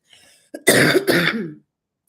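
A single close throat clearing, a harsh rough burst in two quick pushes, surrounded by silence.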